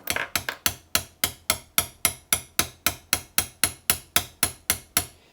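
Hammer tapping a nylon spacer down into a Classic Mini radius arm bushing: about twenty sharp, evenly spaced metallic knocks in a quick steady rhythm, close and loud with no talk.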